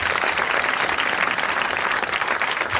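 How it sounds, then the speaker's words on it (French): A 1981 French TV studio audience applauds, a thick continuous clapping crowd heard at close range without a break. "Et elle a droit à vos applaudissements."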